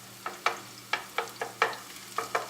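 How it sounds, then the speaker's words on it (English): Shallots and garlic sizzle softly in three tablespoons of olive oil in a pan, broken by about eight sharp scraping stirs spaced close together, near and fairly quiet, with no talk. "I added the shallots and our garlic. I'm just going to let that become slightly translucent"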